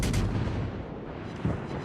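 Naval gunfire in World of Warships Legends, with heavy shell salvos booming out in deep, rumbling bursts, one near the start and another about midway, over a continuous low battle rumble.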